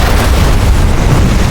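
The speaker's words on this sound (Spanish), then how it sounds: "lo que no es CGI es la explosión de la camioneta" A pickup truck explodes in a practical, non-CGI stunt for a horror film set in the woods, a loud continuous low rumbling blast that fills the whole moment with no voices.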